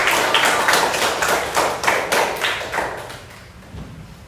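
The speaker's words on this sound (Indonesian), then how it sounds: "Oke, tepuk tangan buat kita." Classroom of children clapping for themselves at a teacher's prompt during a school lesson, a rhythmic run of sharp claps that gradually fades over a few seconds.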